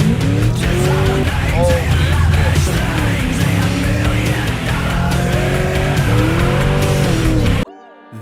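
A cammed C6 Corvette with a past misfire runs loud and close, its engine note rising and falling in repeated rough revs for several seconds before cutting off abruptly near the end.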